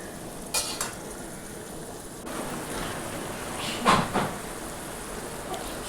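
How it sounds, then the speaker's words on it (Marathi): Green peas stir-fried in a spiced tempering for poha give a soft, steady sizzle throughout, broken by a few brief scraping stirs, with no talking. "पुन्हा हे 1 मिनिटभर ते सगळं परतून घेतलं आहे फोडणीत।"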